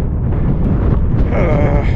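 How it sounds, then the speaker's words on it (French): Strong wind blows hard against a cyclist riding in Mongolia, buffeting the microphone with a steady, loud low rumble throughout, with a faint tonal whistle rising later. "Il y a à nouveau du vent, et comme par hasard évidemment, il est contre moi."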